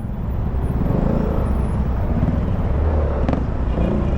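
Road traffic surrounds a moving Yamaha Aerox scooter on a Philippine road toward 10th Avenue, a steady loud engine and wind rumble with passing vehicles and a brief hiss near the end, no talk.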